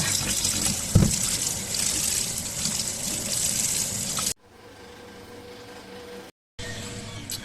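Freshly scaled fish being rinsed in water, a loud splashing and trickling wash for about four seconds with one sharp splash, then a quieter stretch of faint running water.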